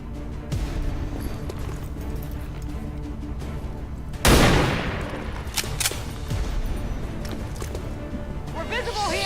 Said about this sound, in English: How about shooting it with a sniper rifle?